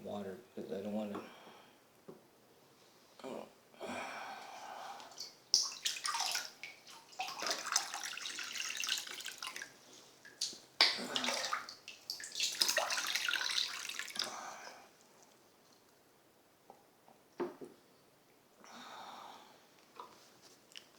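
Tap water pours into a bathtub while a fish vase is being prepared, a continuous splashing rush that swells and eases in waves, fairly soft and close, with a voice talking at times.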